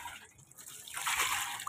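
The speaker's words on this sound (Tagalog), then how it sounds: "dadagdagan natin ng tubig kasi huminto siya" Water is poured into a washing machine tub during a laundry rinse, a quiet lull breaking into a louder rushing splash that builds and holds near the end.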